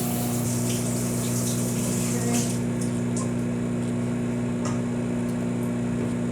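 Tap water runs steadily over a pepper being rinsed, a constant close gush with a mechanical hum beneath and small splashes as the pepper moves in the stream.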